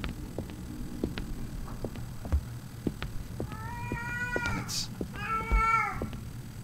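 Cats meow repeatedly inside the video game Erie, with two clear rising-and-falling meows near the middle over a low background hum and faint game noise.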